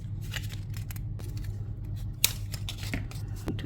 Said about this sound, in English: So I'm gonna go and cut another one out of this one.